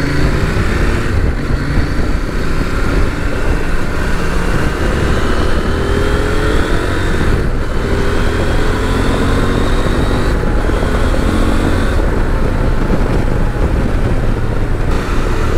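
Adventure motorcycle, a KOVE 800X or CFMOTO 800MT X, cruising at around 100 km/h, giving a steady, loud blend of engine drone and wind rush that holds without a break for the whole stretch.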